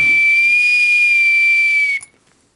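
A loud, steady high whistle blast sounds for about two seconds to end a countdown at an ice-breaker event, then cuts off abruptly, leaving near silence.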